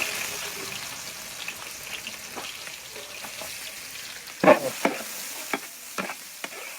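Onions sautéing in a pan for a mussel dish, a steady soft sizzle with clinks and scrapes as the food is stirred, close by with no talking.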